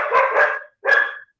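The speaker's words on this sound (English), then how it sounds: "Sorry about the dogs in the background." Dogs bark in the background of a conversation, two loud, close bursts of barking with a short gap between them and no talk over them.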